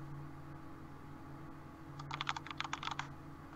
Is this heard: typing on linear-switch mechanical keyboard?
yes